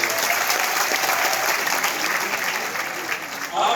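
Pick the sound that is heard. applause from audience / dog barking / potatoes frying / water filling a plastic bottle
applause from audience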